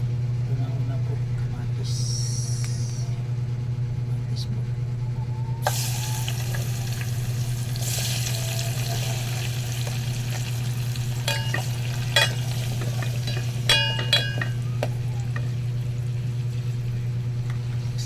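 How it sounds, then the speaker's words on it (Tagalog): Tulingan fish sautéed with tomatoes in a hot pan, a steady quiet sizzle beneath a constant low hum, with a burst of louder frying and several sharp stirring clatters, while a voice talks now and then. "pagluluto lang ng aking ulam, tulingan, ginisa sa kamatis"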